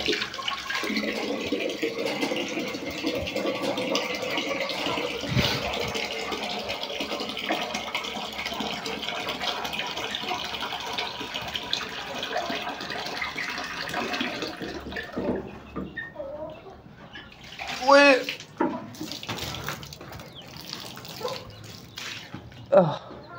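Water runs and splashes steadily for several seconds as it is poured into a container for chickens, then stops, followed by a few scattered drips and small clinks nearby.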